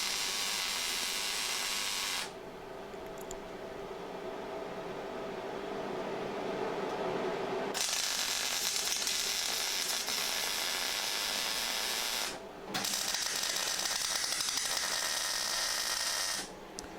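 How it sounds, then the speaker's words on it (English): Plug welding on a Talbot Express camper van's inner wheel arch: long steady hissing, crackling bursts of a few seconds each, separated by short quiet gaps, close and fairly loud with no talk. "And I started my plug welding."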